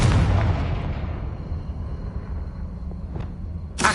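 A Confringo blasting curse in Hogwarts Legacy sets off a loud, broad explosion that fades into a low rumble, with another sharp burst at the end, and no voices.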